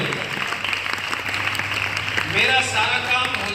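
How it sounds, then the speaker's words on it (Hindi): An audience at an Arya Samaj gathering applauds with steady, dense clapping throughout, and a voice briefly rises over it near the end. "सबके लिए होलसेल में ताली बजाओ"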